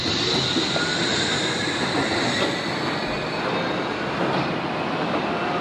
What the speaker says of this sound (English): Wanted to get a cool shot of the train pulling away there.